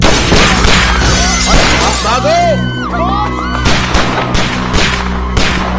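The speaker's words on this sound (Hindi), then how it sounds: "लगता है कोई गोली चला रहा है हम पे।" Sharp gunshot cracks ring out repeatedly in quick succession, loud and near, with voices shouting over the shots.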